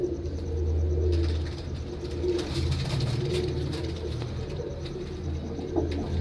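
Pigeons coo in a steady, close, low murmur that runs throughout without pause, no one talking.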